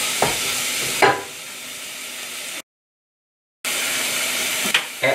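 Onion, ginger and garlic sizzling in a pan while stirred, a bright hissing fry with a few scraping stir strokes, broken by a short stretch of silence before the sizzle resumes.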